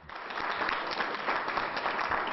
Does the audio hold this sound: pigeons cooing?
no